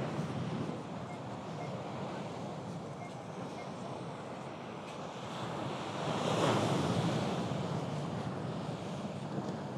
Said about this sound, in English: Some of these waves are crashing pretty hard.